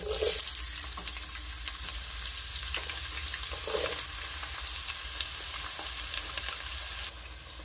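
Oil sizzles and crackles steadily in a wok while a duck curry is being cooked, a close, continuous frying hiss with occasional stirring knocks and no talking.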